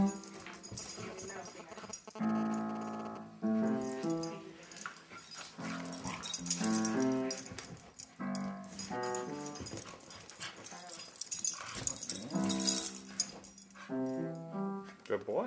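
Dogs whine and whimper in high, drawn-out cries mixed with short yips and barks, close and frequent, with a person talking at times.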